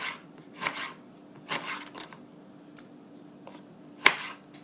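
Knife slicing pears thin for dehydrating, several soft crisp cuts spaced irregularly on a board, ending with a sharper tap, quiet and close with no talk.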